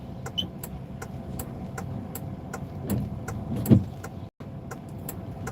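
A car pulls away from a traffic light on a Charlotte, NC street, its engine a low, moderately distant rumble blended with passing traffic, with a few faint clicks along the way.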